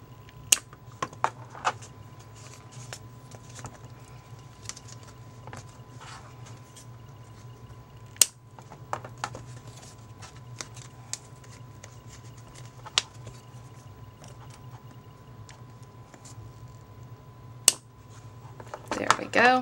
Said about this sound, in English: grab a pair of scissors and cut off these little buttons at the bottom